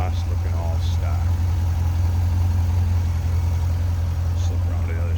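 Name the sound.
2005 Chevrolet Corvette LS2 6-liter engine idling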